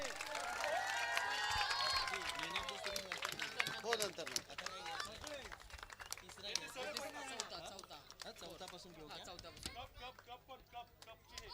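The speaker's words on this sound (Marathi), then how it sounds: "जोरदार टाळ्या थांबल्या नाही पाहिजे." Applause from a crowd at a cricket premier league prize ceremony, a long run of dense, close clapping while someone talks over it.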